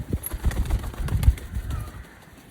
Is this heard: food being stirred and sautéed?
no